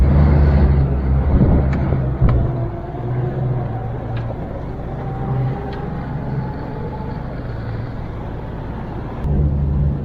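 A stock-suspension Jeep Wrangler TJ with no lift runs its engine floored while crawling off-road, a steady loud drone with rumbling low tones that swell at the start and end.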